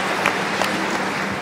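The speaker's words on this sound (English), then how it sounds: "please give them a round of applause as well." A conference audience applauds at re:publica and Media Convention in Berlin, producing a brief, steady patter of many hands clapping from a large hall, moderately loud and without speech.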